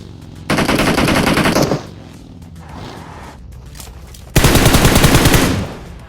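Two long sprays of automatic gunfire in PUBG, loud rapid bursts separated by a quieter gap.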